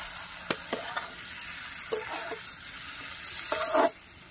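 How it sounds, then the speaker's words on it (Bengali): Shrimp and cauliflower fry in spices in a pan with a steady sizzle, broken by several scraping clanks as the food is stirred. "মাছ এবং ফুলকপিগুলো মশলার সাথে কিছু সময় কষিয়ে নেব।"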